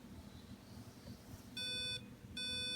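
An embedded alarm system in its warning state gives two bursts of steady electronic beeping, each lasting about half a second. The tone is clear and fairly loud over a quiet low hum, with a short gap between the bursts.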